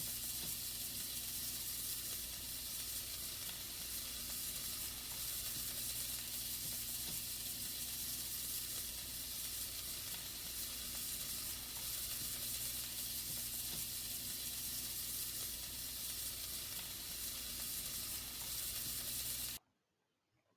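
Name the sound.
onion and minced garlic sautéing in olive oil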